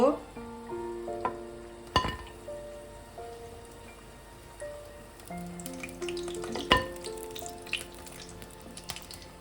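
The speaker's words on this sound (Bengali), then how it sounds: "এরকম একটু লাল লাল করে ভাজবেন" Rajasthani khasta kachori deep-frying in hot oil, a steady close bubbling sizzle with scattered sharp clinks of a utensil and faint background music tones running throughout.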